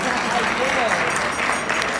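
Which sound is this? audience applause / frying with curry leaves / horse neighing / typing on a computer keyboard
audience applause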